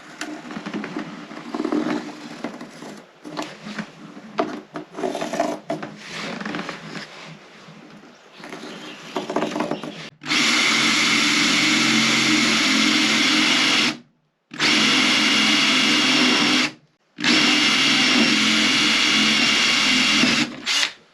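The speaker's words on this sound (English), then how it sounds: "I need to use a jigsaw and a drill to cut the hole" A power drill whirs in short uneven bursts, then a loud jigsaw cuts a hole in a boat in long sustained runs broken by brief pauses.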